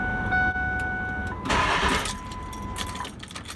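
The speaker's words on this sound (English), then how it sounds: "So to prime the turbo, I'm just going to barely crank the engine and hopefully not start it." A 7.3L Powerstroke diesel truck engine cranks briefly in a short, rough burst without catching, while steady electronic chime tones ring before and after.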